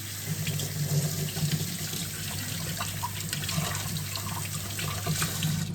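Tap water runs steadily into a sink as lettuce leaves are rinsed under it, a continuous close splashing stream with no talking.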